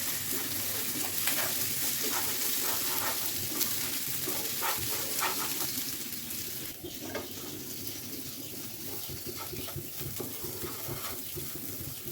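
Bay leaf, chopped onion and shahi cumin fry in oil for chicken biryani, giving a steady, low sizzle with occasional light clicks that runs alone throughout.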